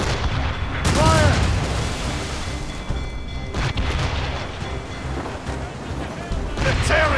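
Royal Navy warships fire their cannons in a naval battle in Assassin's Creed Rogue, with loud, booming blasts rolling one after another amid shouting and continuous battle noise.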